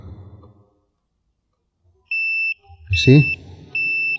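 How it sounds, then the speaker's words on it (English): A Spy 5000m alarm arming on a Yamaha Nmax motorcycle gives a series of loud, steady electronic beeps. Someone speaks over one of the middle tones, and there is a brief lower sound before the beeps begin. "you kill the power and the alarm is immediately armed"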